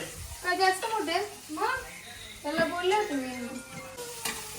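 Onion fries in a pan with a soft, steady sizzle in the background while people talk over it for most of the stretch.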